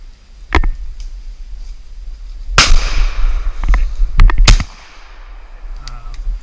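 Shotgun blasts ring out during an opening-day wood duck hunt at dawn: two loud, sharp reports with long rolling echoes, plus several fainter, more distant pops scattered between them in otherwise quiet outdoor air.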